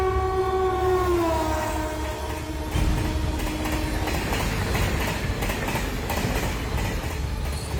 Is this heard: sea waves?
no